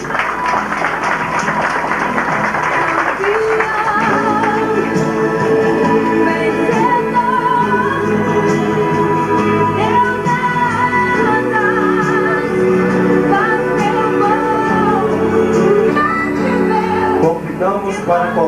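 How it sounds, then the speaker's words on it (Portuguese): Audience applause at a theology graduation ceremony for the class of 2008 carries on steadily for the whole stretch, with voices and music-like tones mixed in. "As palmas."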